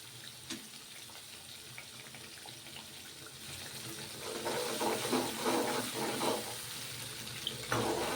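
Water poured into a hot cooking pan starts as a faint background hiss, then swells into a gushing, steaming rush for several seconds before easing off, heard alone at close range.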